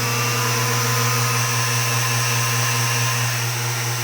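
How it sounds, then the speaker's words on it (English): A small vacuum turbine runs at 26 volts from a homemade battery-charger-transformer power supply, giving a loud, steady whine and hum with a constant pitch throughout, close and with no voices. "A little vacuum turbine. Gonna turn it on 26 volts."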